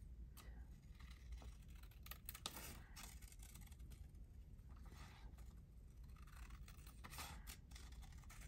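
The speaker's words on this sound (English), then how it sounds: "Let's just cut this one out." Scissors snipping paper, a series of short close crisp cuts with small rustles in between, quiet and without voices.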